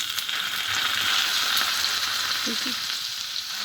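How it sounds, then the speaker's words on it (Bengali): Hot oil poured over raw chicken mince for momo filling, a steady loud sizzle and crackle heard close up and alone. "এই মাংসের কিমার মধ্যে তেল দিয়ে দিতেছি।"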